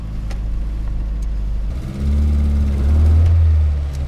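A car engine at an off-grid cabin is started while cold, catches and settles into a low idling rumble, then rises in a heavier surge as the car is moved slightly, close and alone with no talking.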